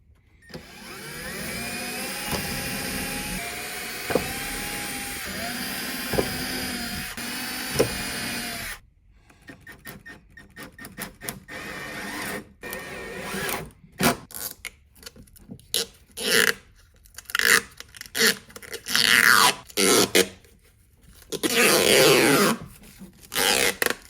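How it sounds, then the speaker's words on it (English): A power tool cuts a circle in a wood panel for a tip jar build: a steady, whining motor drone for several seconds, then a series of choppy starts and stops as the cut continues. "the goal is going to be to cut a circle"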